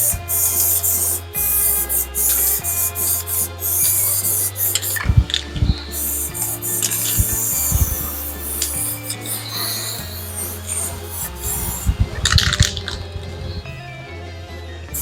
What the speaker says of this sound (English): I'm just going to use the cheap spray paint.